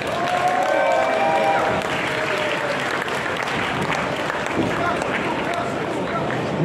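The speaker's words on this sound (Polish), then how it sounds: "chciałbym, żebyście przywitali gromkimi brawami redaktora Łukasza Warzekę" A large live crowd at an evening meet-up in a Warsaw shopping gallery gives loud, sustained applause that fills the whole moment, dense and continuous, with a few cheers mixed in.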